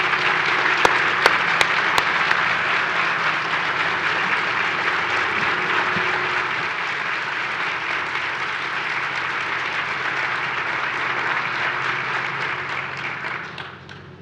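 Audience applause at the dedication ceremony for the Big Lots Behavioral Health Pavilion, a sustained, even burst of many hands clapping for about fourteen seconds before fading out at the end.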